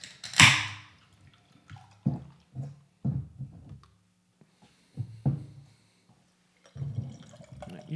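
Warhorse Brewing beer pouring into a glass, a short splashy gush near the start followed by several brief bursts of liquid and fizz, quiet and close, with pauses between.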